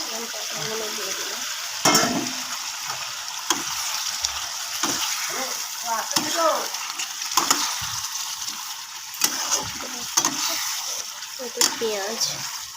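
Onion, tomato, ginger and garlic paste frying with cumin and turmeric for a Bengali fish curry, a steady sizzle broken by repeated sharp scraping stirs, close up, with occasional faint talk.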